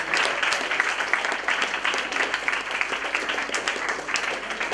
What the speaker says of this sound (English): Give him a big clap now